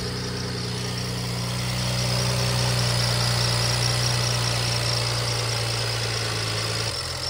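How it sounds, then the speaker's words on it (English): A BMW N54 engine idles steadily with a constant low drone and faint high-pitched belt squeal running throughout, close and continuous, with no talking. "Oh yeah, the belt squeal is there."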